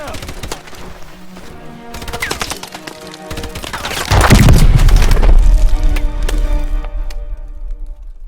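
Gunfire and explosions from the video game Call of Duty: Advanced Warfare, with sharp repeated shots building into a loud, heavy boom and sustained rumbling blasts in the second half.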